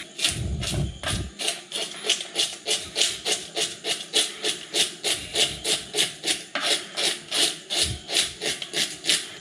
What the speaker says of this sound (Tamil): அப்படியே செதில் எடுத்துகிட்டு திரும்ப வரேன்